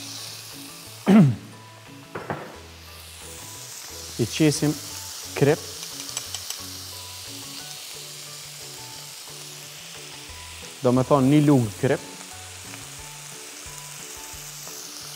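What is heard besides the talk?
minced meat sizzling as it is fried in olive oil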